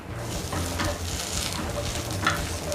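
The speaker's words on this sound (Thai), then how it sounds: "ไม่มีเตาถ่านก็เอาไปคั่วกระทะนะครับ" Steady dry crackle and scraping sizzle from a hot wok as fish is dry-roasted, stirred and tossed, close and continuous with no talking.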